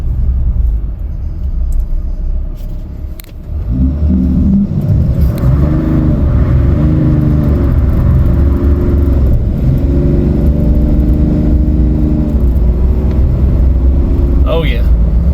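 A stock 2025 Ram 2500 pickup with traction control off power-brakes into a burnout, its engine rising from idle rumble into a loud, sustained rev with rising and falling harmonics, held close for over ten seconds while a voice speaks briefly.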